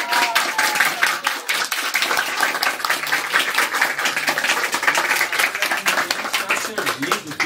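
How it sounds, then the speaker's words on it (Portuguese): Audience applause at a literary fair in Pindaí, Brazil, a dense, loud, sustained burst of many hands clapping throughout. "vou dar uma salva de palmas."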